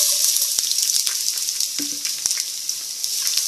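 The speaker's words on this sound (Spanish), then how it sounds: "vamos a agregar la cebolla" Chopped onion frying in hot oil in a cooking pot, a steady bright sizzle running throughout with a few soft clicks and scrapes, fairly close and alone with no voices.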